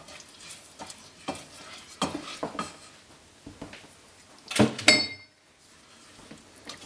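A spoon scrapes and taps through a thick honey pecan sausage roll mixture in a bowl, giving irregular close stirring strokes and a brief clinking near the end, with no talking.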